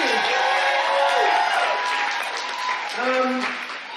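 An audience at a Haitian women's brunch applauds a keynote speaker with steady, dense clapping and a few whoops, while a voice talks over the applause throughout.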